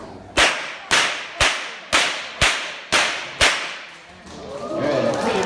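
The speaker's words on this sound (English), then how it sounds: "cracking the whip is just about technique" A whip is cracked over and over on a farm at a wildlife park in Western Australia, seven loud, sharp snaps at a steady half-second rhythm, followed by a rising rustle.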